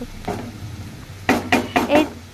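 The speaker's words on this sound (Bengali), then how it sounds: "এরপরে পেঁয়াজটাকে নাড়াচাড়া করে নিয়ে হালকা ব্রাউন কালার করে নেব।" Chopped onion is stirred and fried in a pan toward light browning, with a few sharp scraping and clattering strokes of a spoon against the pan over a low, steady sizzle.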